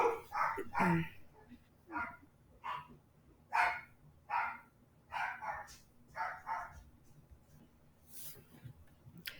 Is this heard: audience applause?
no